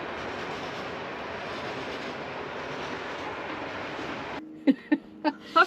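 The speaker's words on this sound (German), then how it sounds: "jetzt haben wir gerade gemerkt, dass der Zug durch quasi unsere Stube fährt." A train rolls past a campsite in Seville, a steady broad rumble close by for several seconds, then cutting off into a few separate knocks and clacks from the wagons.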